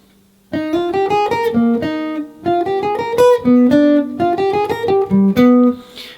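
A guitar plays a jazz lick of quick, clearly picked single notes in three phrases, each rising and settling onto a held note, with short pauses between them.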